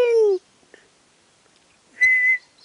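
A man whistles in imitation of a bird's call, first a falling whistled note, then after a pause a second steady high whistle, close and clear against near silence.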